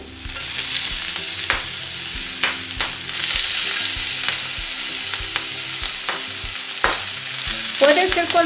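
Vegetables, corn, onion and poblano chile, sizzle steadily in a hot pan while a utensil scrapes and stirs them in repeated sharp strokes; a brief word is spoken near the end.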